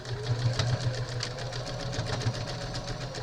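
A sewing machine stitches fabric for a face mask, giving a steady close mechanical whirr with a fast, even rhythm of needle strokes and no talking.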